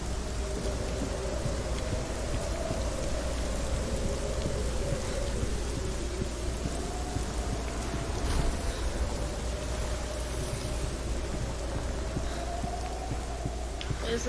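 Steady rain with a low rumbling storm bed in the video game Hellblade: Senua's Sacrifice, a continuous wash of noise lasting throughout with a faint tonal drone above it and no speech.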